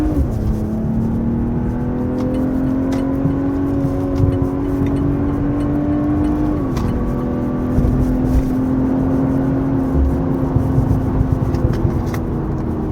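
A BMW M340i's engine hums steadily from inside the car as paddle-shift downshifts are made, its tone stepping to a new pitch partway through and settling into a smooth drone again.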